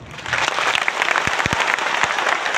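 Loud, sustained applause from an auditorium audience at a large coaching-class meet-up, dense clapping with a few sharp individual claps standing out.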